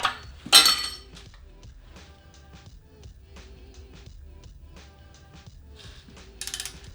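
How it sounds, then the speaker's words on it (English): A metal crank position sensor plate is pried off a Toyota 2ZZ engine during teardown: one sharp metallic clink early on, faint tapping and scraping after, and a brief bright rattle near the end. "Now the crank position sensor plate needs to be pried off."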